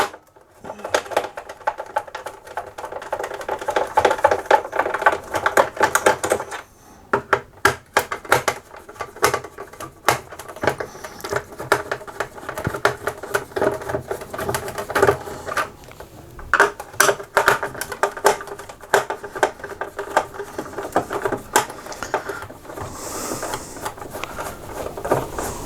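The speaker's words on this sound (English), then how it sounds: "there's 1, 2, 3, 4, 5, 6, 7 screws I think holding it down, so I'll be as quick as I can getting those out." Screws being worked out of a Rexel laminator casing, with dense bursts of clicking, rattling and scraping from a hand tool and loose parts, close and fairly loud, broken by brief pauses and no talk.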